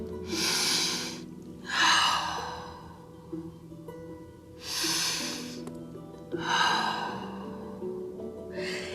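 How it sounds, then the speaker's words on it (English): Slow, deep breathing during a gentle yoga flow, with long audible inhales and exhales alternating at a relaxed, steady pace, close to the microphone over a faint low background hum. "Breathing in and breathing out."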